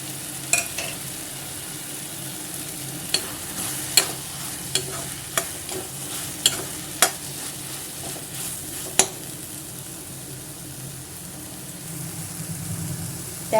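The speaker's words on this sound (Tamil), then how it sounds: "இந்த ஸ்டேஜில் தேங்காய் திருவி இந்த மாதிரி சேர்த்து வதக்கிக்கலாம்" Grated coconut is sautéed with softened tomato in a pan for pepper chutney. A low continuous sizzle runs under repeated spatula scrapes and sharp metal taps spaced a second or so apart.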